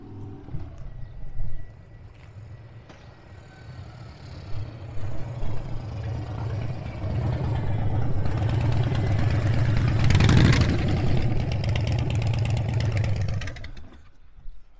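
Motorcycle fitted with a La Pera bare bones solo seat approaches and rolls up close, engine rising to a loud rumble, then settling into a steady idle before cutting off, with no talk.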